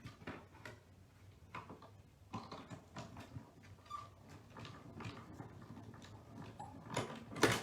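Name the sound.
embossing machine cranking plate through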